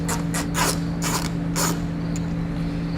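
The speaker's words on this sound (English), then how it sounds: "we're going to take an 8mm socket and pull this bolt out" An 8mm socket wrench backs a bolt out of the front end of a 2009 Subaru Forester during a base plate install, giving four or five rhythmic bursts of ratcheting over a steady background hum, then falling quiet.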